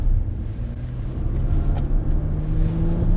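A 2017 Bentley Bentayga's engine under full throttle on the Lime Rock Park race track, a loud steady low drone with rising pitch and continuous road and wind noise, no talking.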